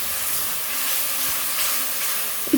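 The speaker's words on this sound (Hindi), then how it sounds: "इन तीनों चीज़ों को हम अच्छी तरह से भून लेंगे पहले, फिर इसमें हम सूखे मसाले ऐड करेंगे।" Ginger garlic paste and tomatoes fry in a pan for bottle gourd curry, making a continuous soft hiss and sizzle with a brief clink near the end.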